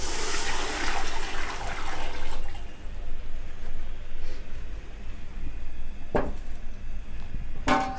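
Water is poured into a large cooking pot of vegetable pulao, 2.25 litres over 1.5 kilograms of rice, a loud continuous splashing rush that thins out, with a couple of sharp clinks near the end.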